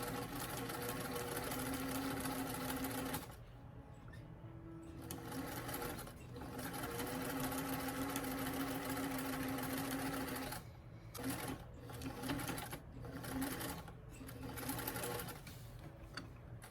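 A sewing machine stitches a fabric doll mannequin in a steady, continuous close hum, broken by a few short pauses and quick bursts toward the end as back stitches are made.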